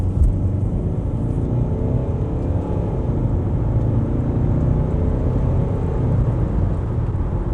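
Steady low diesel engine rumble and road noise heard from inside a 2011 Mercedes C220 CDI (W204) as it drives along, with a slight rise in engine pitch while accelerating.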